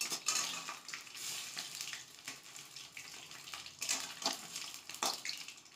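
Vegetable chops fry in oil with a soft, continuous sizzle and bubbling, broken by a few louder bursts of crackle; the frying sits close but quiet, with no talking.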